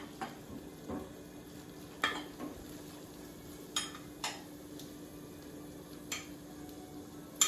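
Chopped tomatoes tip into a pan holding long grain rice, giving a low steady sizzle with a few sharp scrapes and utensil knocks spaced through it. No one speaks.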